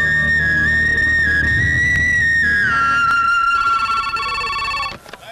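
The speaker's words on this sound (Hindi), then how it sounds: "सलीम भाई आपका फोन" A steady high electronic ringing tone with shifting pitch plays loudly against a music-like bed, then cuts off near the end.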